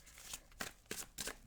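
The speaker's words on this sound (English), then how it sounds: "Okay, one more shuffle." Tarot cards being shuffled up close, a handful of soft riffling bursts in a loose rhythm, quiet and without talking.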